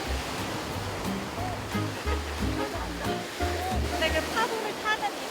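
Ocean surf breaks and washes continuously along a Busan beach where surfers ride, a steady rushing roar under faint background music.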